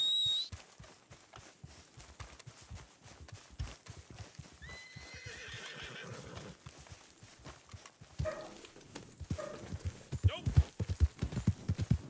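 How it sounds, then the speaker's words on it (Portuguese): Wild horse hooves clip-clop steadily in the Red Dead Online western game, with loud neighs and whinnies, a dog barking, and people talking over the galloping rhythm. "Olha o cavalinho selvagem."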